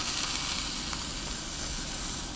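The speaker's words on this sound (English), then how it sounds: "sear this fat cap on here" A steak's fat cap sears in hot oil in a pan at a truck campsite, giving a continuous close sizzle with fine crackling and no voices.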